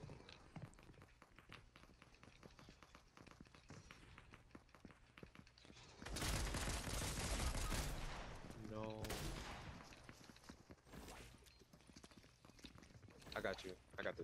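Rapid bursts of gunfire from a bot in a Fortnite Zero Build duos match, with a dense, loud volley in the middle and scattered shots before and after, all under a busy in-game soundscape.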